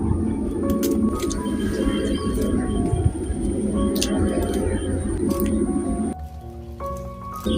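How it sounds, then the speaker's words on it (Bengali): Fins being cut off a bata fish give a continuous wet, squishy scraping and crunching close up, with a short quieter stretch near the end. "এখন মাছের পাখনাগুলো কেটে নিচ্ছি।"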